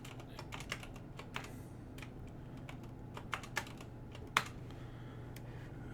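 Typing on a computer keyboard during programming work: steady, fairly quiet key clicks in an irregular rhythm with a few sharper, louder keystrokes, heard alone over a low room hum.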